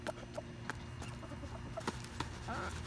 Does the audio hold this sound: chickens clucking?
yes